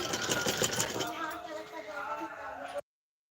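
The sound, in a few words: sewing machine stitching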